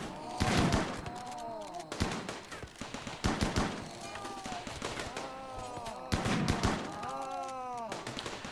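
Gunfire in the RimWorld video game against a zombie swarm, with repeated bursts of sharp shots in quick clusters and some louder volleys. A voice talks over the shooting throughout.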